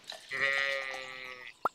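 A sheep in the farming game Stardew Valley gives a single wavering, nasal bleat lasting about a second, clear and close, followed by a short sharp click.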